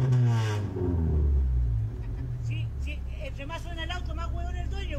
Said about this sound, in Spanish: Entre más suena el auto, más huevón el dueño, po.